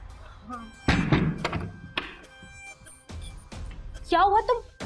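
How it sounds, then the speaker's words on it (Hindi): A door is pushed shut indoors with a solid near thunk, amid other bumps and handling noises, with a voice speaking briefly near the end. "दरवाजा बंद।"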